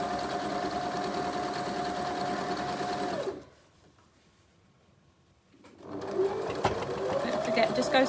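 A sewing machine stitches quilt block seams at a steady hum, stops for a few seconds of near silence, then starts again, with a voice talking over it.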